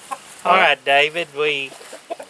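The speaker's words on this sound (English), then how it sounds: "This is a very young rooster. He's just starting to crow, actually." A very young blue-laced red Wyandotte rooster clucks in several loud, drawn-out, strained calls at close range, starting to crow, with a voice briefly at the start.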